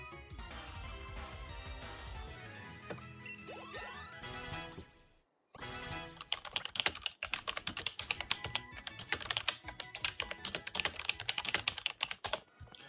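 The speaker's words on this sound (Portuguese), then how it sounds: "É tão engraçado ouvir o som do meu teclado a sair na live stream" Rapid clatter of typing on a computer keyboard picked up during a live stream of a Pokémon game, dense irregular keystrokes close to the mic, pausing briefly mid-way before resuming in busy bursts.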